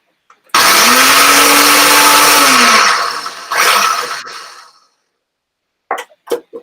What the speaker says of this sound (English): I'm going to grind it all up. Okay. In my blender.